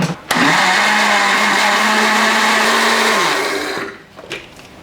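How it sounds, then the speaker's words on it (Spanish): A blender making salsa roars loudly and steadily for about three seconds, its motor pitch holding high before winding down and stopping. "Muy importante conectar la licuadora para que funcione."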